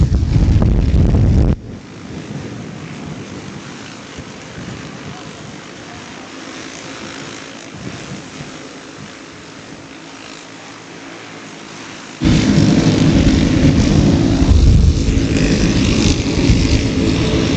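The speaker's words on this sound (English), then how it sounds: "Wind picking up very, very hardly here." Strong wind buffets the microphone at an outdoor dirt race track, a loud steady roar that eases for several seconds and then surges back harder.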